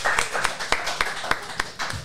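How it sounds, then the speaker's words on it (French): A small group applauds, with sharp, irregular individual claps standing out above a lighter patter of hands, roughly seven or eight distinct strikes over two seconds. "On applaudit."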